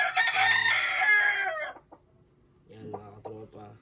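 A bullstag gamecock crows loudly up close, a long drawn-out call, followed after a short pause by softer clucking.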